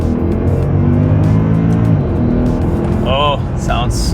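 A stock Mercedes-AMG 6.2-liter V8 car launches hard from a standstill, its engine roaring louder and rising in pitch for about two seconds, then dropping at a shift, with brief high chirps near the end.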